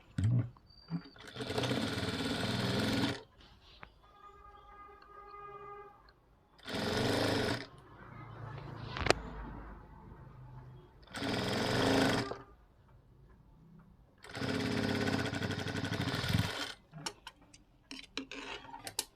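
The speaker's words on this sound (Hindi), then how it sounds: "इस तरीके से हम पट्टी को थोड़ा सा बाहर की ओर ले जाके फोल्ड कर देंगे इस तरीके से और फिर हम सिलाई करेंगे।" Sewing machine stitching a folded band onto a blouse, running in four separate bursts of steady stitching with quieter handling and pauses between them.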